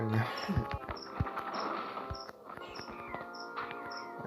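A cricket chirps in The Legend of Spyro: The Eternal Night, giving short, evenly spaced high-pitched trills under a person talking and scattered game noises.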